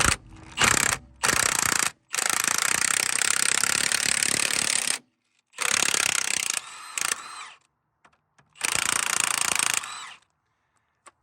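A loud impact tool or ratcheting puller pulls the hub out of a rear axle on an Audi Q5 with quattro all-wheel drive. Harsh mechanical hammering comes in several close bursts separated by short silences.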